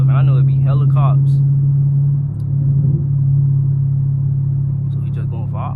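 Chevrolet Camaro SS engine while driving past schools, a steady low rumbling drone that dips briefly and resumes, with someone talking over it at times.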